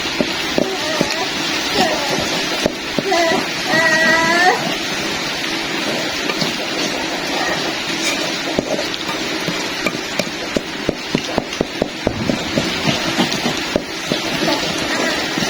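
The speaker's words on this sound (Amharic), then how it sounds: "ዝናቡ እየጣለ ነው።" Rain patters steadily on a surface with scattered sharper drops, a continuous wet hiss, and voices briefly heard in the middle.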